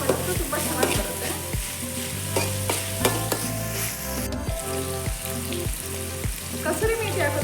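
Gobi manchurian sautéing over a very high flame, with a steady close sizzle broken by regular, rhythmic clanks of a spatula or ladle against the pan.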